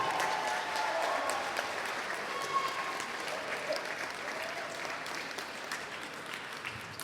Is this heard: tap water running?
no